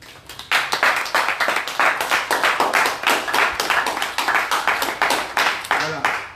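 Congregation in a church clapping together in a steady, rapid rhythm, loud and continuous, with voices mixed in underneath.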